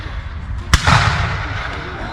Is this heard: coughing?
no